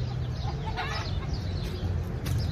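Chickens cluck outdoors on Maui, a few short calls over a steady, busy background of ambient outdoor noise.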